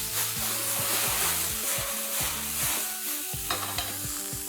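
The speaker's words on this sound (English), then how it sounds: "We need to stir fry this for like 30 to 40 seconds" Onions, tomatoes and bay leaves stir-fry in hot oil, a continuous close sizzle with regular scraping and tossing strokes over a low background hum.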